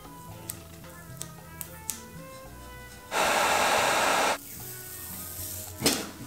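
A heat gun blasts hot air onto motorcycle parts of a CRF300L, a sudden loud, close rushing roar lasting about a second, set between quieter handling clicks and a short later gust.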